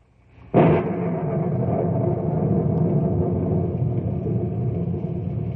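A sudden loud crack breaks into a deep, rolling thunder rumble that keeps growling steadily for several seconds.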